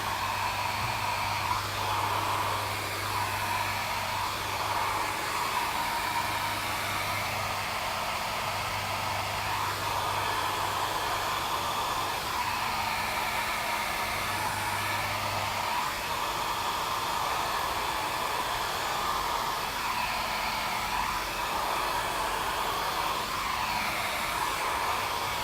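A hair dryer blows steadily on a lithography printing element, a continuous loud airy whoosh with a faint low motor hum lasting throughout, with no talking.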